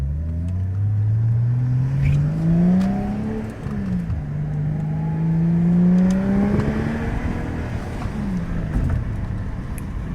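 A Subaru Liberty 3.0R with the EZ30 flat-six boxer engine and six-speed STI gearbox accelerates steadily, a loud, smooth engine note rising in pitch through the gears with brief dips at each shift and no talking.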